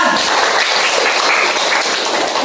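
A high school classroom of students breaks into dense, steady applause that holds at an even level for the whole stretch, many hands clapping together with no voices over it.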